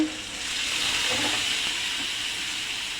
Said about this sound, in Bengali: এরপর পানি দিয়ে দিচ্ছি